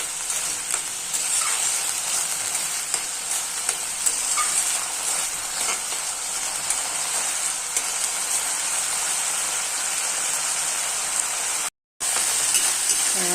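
Food fries in a pan with a steady, close sizzle and scattered crackles that carry on almost unbroken, cut by a brief gap of silence near the end.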